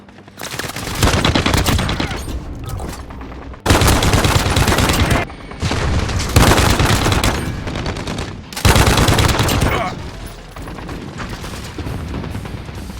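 RAAL MG machine gun firing in the video game Warzone: loud sustained bursts of automatic fire in several long strings separated by short gaps, with booming battlefield noise between them.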